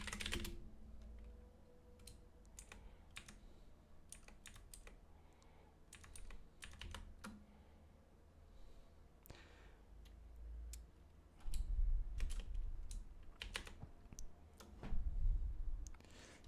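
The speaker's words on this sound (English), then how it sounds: "I'm typing it." Someone types on a computer keyboard during a crypto chart livestream, with soft, close keystrokes clicking in uneven bursts and short pauses, and a few louder thumps near the end.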